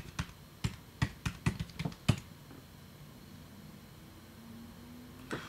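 Quick bursts of keyboard typing on a computer, a run of sharp close keystrokes in the first two seconds, then quiet room tone with one last isolated tap near the end.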